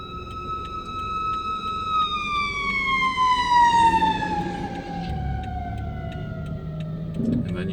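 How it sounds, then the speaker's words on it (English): A fire truck siren wails with a long descending tone as the truck passes close by a motorcycle rider on the road, fading out near the end under traffic rumble. "Hold on, there's a fire truck behind me."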